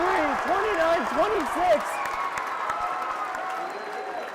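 A basketball crowd at a regional final between McBain and Lake City roars and applauds loudly and steadily at the end of the third quarter, while an announcer talks excitedly over the din.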